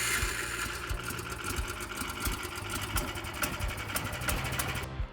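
A gasoline motorized sled engine running after an electric start, a steady, busy mechanical chatter with rapid rhythmic pulsing, close and loud throughout with no talking.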